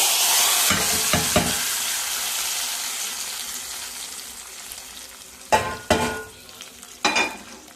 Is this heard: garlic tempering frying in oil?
yes